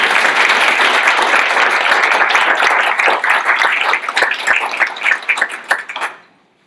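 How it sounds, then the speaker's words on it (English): A brief round of applause at a community snow management and removal summit, a dense burst of clapping that thins into scattered individual claps before fading out. "Just a quick round of applause for that group."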